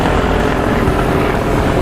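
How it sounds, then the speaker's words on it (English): Helicopter rotor drone close by during a smallmouth bass fishing outing, a loud, steady thrum that holds level throughout with no speech over it. "Now in the background, you'll hear lots of noises. There are helicopters all around."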